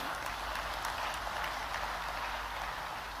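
Audience applause at a global investors summit in Indore, a steady wash of clapping from a large crowd held evenly at moderate loudness.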